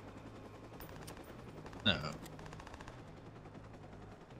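Gunfire in the video game Watch Dogs: one sharp shot stands out near the middle, with faint rapid popping around it, set against a steady game background.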